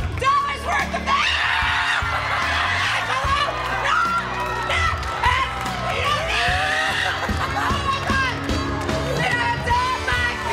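Shrill screaming from a woman on the reality TV show Killer Karaoke, loud and continuous, mixed with crowd yelling, whoops and laughter, with excited voices overlapping throughout.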